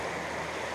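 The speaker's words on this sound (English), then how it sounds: "right here is where the first waterfall we're looking for dumps into the creek here" Steady rushing water in a creek below a waterfall in the Ozark National Forest, a continuous broadband wash that stays even throughout with no voices.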